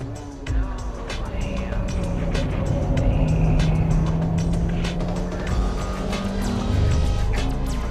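A Type R Honda car runs at full throttle into a hairpin on a race circuit, its engine note loud and sustained with rising and shifting tones, a light voice briefly audible over it.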